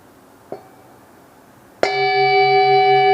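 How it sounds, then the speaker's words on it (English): A meditation bell struck once, preceded by a faint light tap, then a loud bright strike that rings on with a sustained, steady shimmering tone in a quiet room. "I'll invite the bell."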